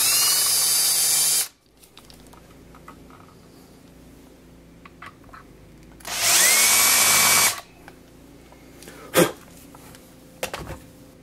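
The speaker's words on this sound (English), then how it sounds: "we're going to make 2 small pilot holes" Small pilot holes drilled into a guitar body with a power drill and bit: two loud, steady whirring bursts of about a second and a half each, separated by quiet, followed by a couple of brief knocks.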